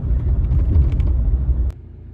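Loud, close low rumble of a car moving through traffic, steady engine and road noise that drops off abruptly near the end, with no talking.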